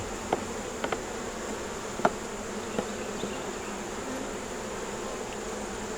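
Honey bees buzz steadily around an open beehive in a continuous close drone, with a few brief clicks and taps scattered through it and no voices.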